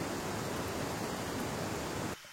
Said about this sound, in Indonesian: berpadu dengan derasnya arus sungai di samping kanan kami